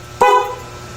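A single short horn beep from a Suzuki Raider R150 Fi motorcycle, sharp and close, quickly fading to a quiet idle hum.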